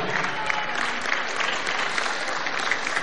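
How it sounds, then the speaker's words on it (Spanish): Lively audience applause at a regional cueca awards ceremony for seniors in Machalí honours the national cueca champion, a loud continuous burst of many hands clapping close by throughout. "Un aplauso a Carmencita, nuestra campeona nacional."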